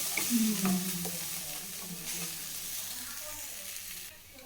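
Gobi manchurian, cauliflower pieces stir-fried in a pan street-style at home, giving a continuous close sizzle with soft scraping and tossing sounds throughout.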